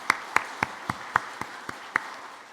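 Sharp claps ring out in a church after the choir and worship team finish singing, about eight distinct slaps spaced roughly evenly, clear and fairly close against a quiet room.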